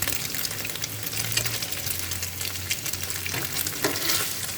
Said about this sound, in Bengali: একদিকে আমি একটু কাজু বাদাম দিয়ে দিচ্ছি, কাজু বাদামগুলো একটু ভেজে নেব